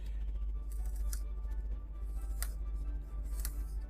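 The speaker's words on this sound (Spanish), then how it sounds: "cortamos por la línea" Scissors snipping through a thin sheet of wood veneer along a marked line for a marquetry Star of David, giving a few sharp, quiet cuts spread over a steady low background hum.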